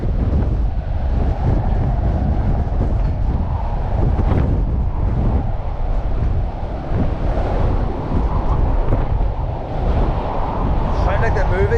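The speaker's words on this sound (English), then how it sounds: "Hear the wind going through the fence here, boys." Storm wind roaring and rushing through a fence beside a beach, a loud continuous buffeting blast with gusting surges, wind hitting the microphone, and surf mixed in beneath someone talking.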